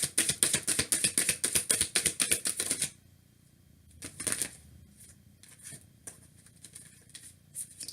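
Tarot cards riffle and patter in a rapid, crisp shuffle for about three seconds, close and alone, followed by a few soft card flips and handling sounds in a quiet room.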